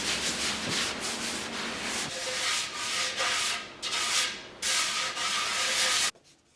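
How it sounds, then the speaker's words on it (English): Sandpaper scrubbing across wood while smoothing a small side table made from offcuts, moving through grits from 120 to 180. The strokes are steady and rasping, arrive in repeated back-and-forth bursts, sound close and fairly loud, and end abruptly. "sanding down to 120 grit, doing a grain raise, and then down to 180 grit"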